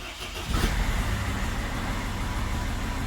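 A Mercedes with an ABS, ESP and BAS fault is cranked and fires up, a brief starter whirr followed by a steady, close engine idle that holds without revving.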